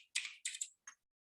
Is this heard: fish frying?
no